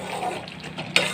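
Wheat rava upma stirred in a pan, a steady scraping and bubbling simmer over about a second, with a sharper clink of the spoon near the end.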